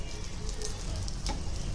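Bread omelette frying in hot oil in a pan, a steady close sizzle with crackling spits and small pops throughout.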